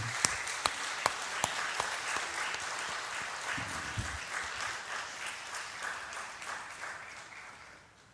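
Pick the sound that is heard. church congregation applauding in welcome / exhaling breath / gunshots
church congregation applauding in welcome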